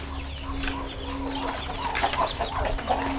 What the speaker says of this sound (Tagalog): Sila po yung free-range chicken, dominant CZ.